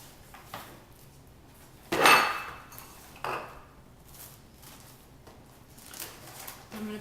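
Metal baking pan handled in a kitchen while dough is covered with saran wrap, a few close clanks and clatters, one louder knock followed by lighter handling noises and rustling.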